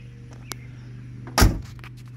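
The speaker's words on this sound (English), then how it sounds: "Listen how those doors close." The door of a 1958 Chevrolet Impala shuts with one solid, loud, close thud, preceded by a faint click of the latch.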